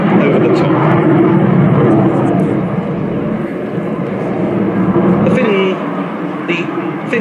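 Hawk jet roaring through an aerobatic half Cuban 8 manoeuvre, a sustained loud engine drone that shifts in pitch, with a commentator talking over it.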